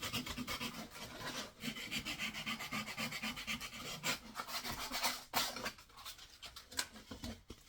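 A file and sandpaper rasp along the edges of a wooden swift nest box in quick, rhythmic back-and-forth strokes, close and fairly loud, with brief pauses between bursts.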